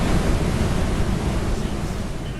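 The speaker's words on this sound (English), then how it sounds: "The tremendous rumble of the Snoqualmie Falls can be felt thundering in your chest before it's even heard." Snoqualmie Falls thundering down, a steady, loud, deep rushing roar of falling water with no breaks.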